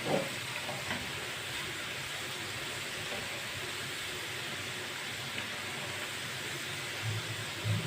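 Potato chips frying in hot oil and being stirred, a steady dense sizzle that runs throughout, with a few soft knocks from the stirring.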